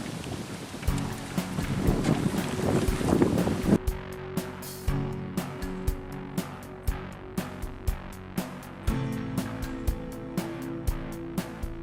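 Wind gusts over a fishing boat drifting into rocky shallows, buffeting the microphone. Short knocks and taps repeat through the wind noise, close and uneven.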